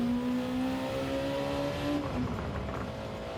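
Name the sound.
race car engine accelerating in a racing video game at Nurburgring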